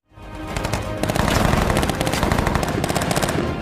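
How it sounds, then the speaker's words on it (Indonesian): Rapid machine-gun fire in a war film battle scene, a dense sustained burst of loud close shots rattling almost without pause. "Jenderal Dostum lalu mendekatinya dan langsung menembak kepala Mullah Razan."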